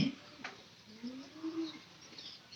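Pigeons coo softly near a bowl of cool water, a few low rolling calls drawn out over a quiet background, with faint chirps higher up.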